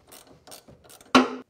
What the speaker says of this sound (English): that's when you go in and actually finish the tightening off